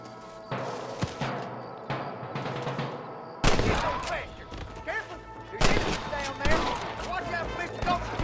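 Gunfire in a video game shootout: bursts of rapid shots and heavier blasts, loud and close, crowding the second half, with a quieter stretch of sporadic shots before it and talk mixed underneath.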